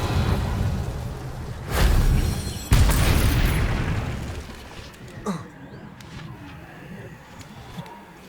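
An Incendio fire spell in Hogwarts Legacy gives two loud booming fiery bursts in quick succession with a whooshing roar, then a brief crackling pop as the sound settles into quieter ambience.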